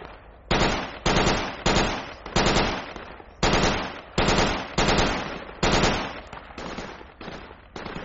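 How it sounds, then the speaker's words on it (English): Sustained machine-gun fire in the military shooter Project Reality, loud close bursts repeating every half second or so for about eight seconds, each burst sharp at onset and trailing off, with no talk over it. "MG's putting down on us."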